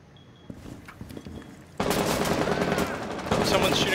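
Automatic gunfire through a window in Rainbow Six Siege, starting with scattered shots and then breaking into a loud, dense, continuous burst of rapid rounds close by, without talk.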